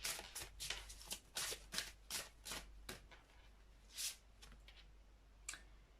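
Tarot cards rustle softly through a run of quick shuffling flicks, then one card is drawn with a couple of separate snaps. The sound is faint and close, with no talking.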